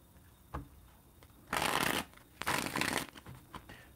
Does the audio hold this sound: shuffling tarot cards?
yes